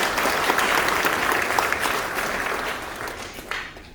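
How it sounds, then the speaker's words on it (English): Audience applause at a welcome event for the president of Guyana in New York, a dense, steady round of clapping from a large crowd that holds strong throughout and only begins to thin near the end. "Please give yourselves a round of applause."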